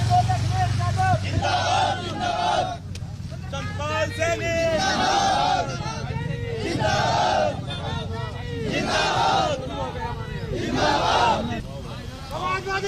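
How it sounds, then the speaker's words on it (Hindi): A large crowd of political supporters gathered outside Swami Prasad Maurya's house chants and shouts slogans in loud, rhythmic bursts. Steady street noise and traffic rumble run underneath, all close and dense. "उनके घर के बाहर अब समर्थकों की भीड़ जुट गई है।"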